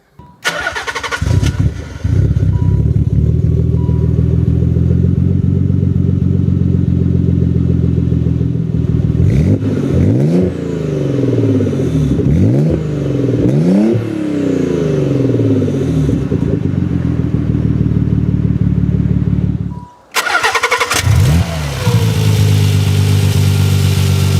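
A Nissan 300ZX with a 3.0 twin-turbo engine starts up and idles loudly, then is revved hard several times with rising and falling roars before a brief cut, close and steady.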